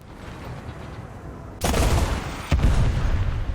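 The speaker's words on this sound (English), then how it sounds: "I also have anti-tank missiles. Target hit." Anti-tank missile strikes a target in War Thunder, fired from a QN506 light tank: two heavy broadband booms land about a second apart over a steady low rumble, loud and close with lingering rolling tails.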